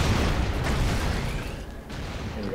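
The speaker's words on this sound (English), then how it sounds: "I can't help blowing stuff up." Explosions in the Broforce video game, a dense barrage of booms and crackling blasts running together into a loud continuous rumble that eases slightly toward the end.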